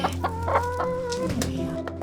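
Rescued hens cluck and call close by in a steady stream of overlapping vocalizations, with drawn-out tonal calls among the clucks.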